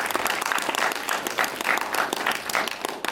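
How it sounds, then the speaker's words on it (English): Audience at a film premiere for the movie Monster claps in a steady, dense burst of applause, moderately loud and sustained throughout. "Could you get a round of applause for"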